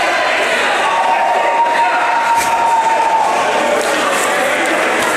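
A large crowd at a UNLV versus Weber State college ice hockey game roars and cheers in the arena, a dense, continuous wash of noise that stays loud throughout.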